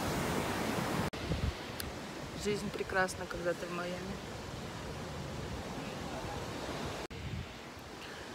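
Broad, steady wash of ocean surf in Miami mixed with wind buffeting the microphone, while someone speaks over it briefly.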